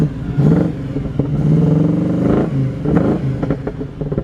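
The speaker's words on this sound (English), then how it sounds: "It's got a brand new Borla exhaust system on it. It's got a fine sounding exhaust." A 1941 Chevrolet Coupe with a new Borla exhaust is revved hard and close, two long mellow surges rising and falling, then a few shorter blips, loud and with no one talking.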